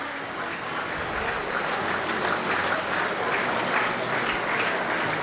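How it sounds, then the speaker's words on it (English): A speedway crowd at a Poole Pirates Championship meeting gives a gentle ripple of applause, with moderate, continuous clapping heard from a distance across the stadium. "As you can hear that slight ripple of applause."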